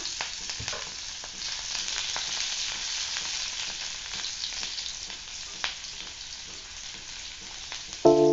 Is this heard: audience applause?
no